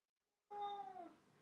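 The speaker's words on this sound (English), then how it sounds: "Can you hear my cat?" A pet cat lets out a single drawn-out, plaintive meow indoors, faint and alone, trailing off after about half a second.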